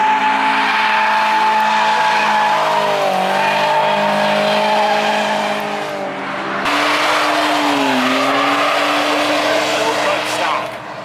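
Drifting cars squeal their tires loudly and continuously, with engines whining and rising and falling in pitch as they slide; people talk over the din, with a brief dip around the middle.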